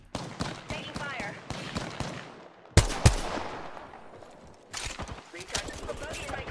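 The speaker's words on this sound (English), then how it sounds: "The enemies are shooting." Bursts of gunfire from the shooter game Apex Legends: scattered rapid shots, with two loud sharp cracks near the middle, mixed with game effects and voices talking throughout.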